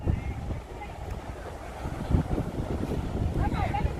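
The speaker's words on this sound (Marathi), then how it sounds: "वारा छान वाहतोय" Wind gusts across an open sandy beach, a steady broadband rush with buffeting against the microphone, fairly loud and continuous throughout.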